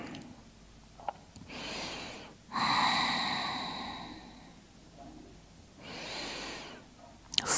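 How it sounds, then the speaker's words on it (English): Slow, deep breathing during a yoga forward fold stretching the legs and hips: a long inhale, a longer audible exhale, then another soft breath, close and quiet with no talking. "Just take deep breaths here"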